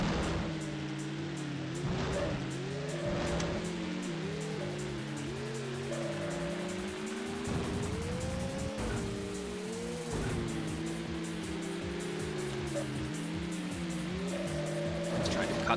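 Race cars in the MS-DOS game Screamer Rally drone along with steady engine tones that rise and fall as they shift and corner, continuous and fairly loud, with a little background noise and no talk.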